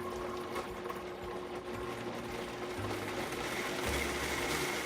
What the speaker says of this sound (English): we'll blend it on a high speed for about 2 minutes just to get it nice and whipped